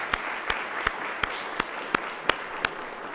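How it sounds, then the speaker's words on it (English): Sharp, evenly spaced claps ring out at a Jewish Federation campaign kickoff, about three per second, crisp and near above a low room hum, with no speech. "Can we maybe just give them a little round of applause?"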